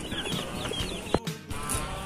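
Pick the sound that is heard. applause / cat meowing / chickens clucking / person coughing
chickens clucking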